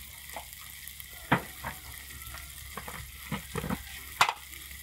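Tofu stir-fried with Vietnamese coriander in a pan for a vegetarian dish sizzles steadily, with several sharp scraping clicks from stirring scattered throughout.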